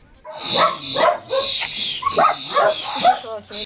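Dogs at a shelter housing more than 80 rescued dogs bark and yip repeatedly in close, loud bursts, with some whimpering mixed in.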